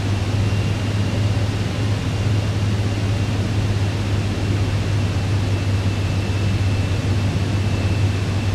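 An airplane engine in Microsoft Flight Simulator 2024 on an approach to landing, a steady, loud cabin drone with a low hum and broad rushing noise, unchanging throughout.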